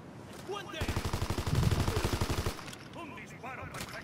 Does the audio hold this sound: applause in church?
no